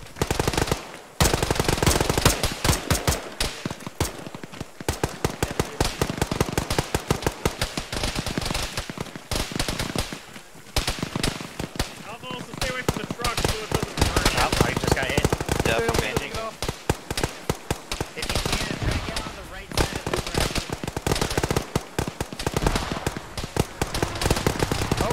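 Sustained machine gun fire rattles almost continuously through a ShackTac military shooter game, rapid dense bursts with only short pauses, loud and close, mixed with scattered other gunshots and some voice chatter.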